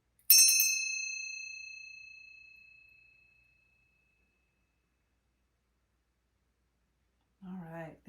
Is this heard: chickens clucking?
no